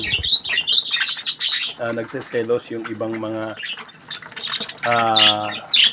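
Parakeets chirp and twitter in bright, busy bursts while a person speaks over them.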